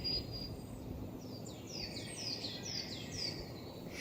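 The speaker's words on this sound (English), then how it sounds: "I simply enjoy being alone with nature and listening to the birds in the forest" Birds singing in a Swiss forest, a faint series of quick descending chirps repeated in a short burst over soft, steady background hush.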